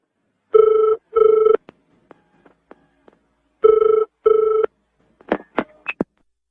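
A telephone rings twice in paired bursts, followed by a few faint clicks, then another two-burst ring and some short beeps.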